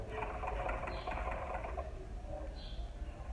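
A sewing machine runs steadily close by, stitching a finishing seam on pearl-trimmed baby shoes, with a fast, even whirring patter throughout.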